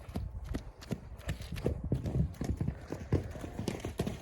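A mare's hooves clip-clop steadily on a hard surface, a close, even rhythm of sharp knocks carrying on throughout.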